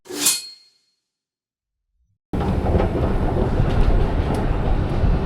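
A London Underground train runs deep underground, a loud, steady rumbling roar with rattling and faint clanks that begins abruptly after a short burst of sound and a silent gap.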